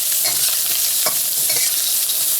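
Spam and onions frying in a pan while being stirred, a loud continuous close sizzle with scraping stir strokes over it, no talking.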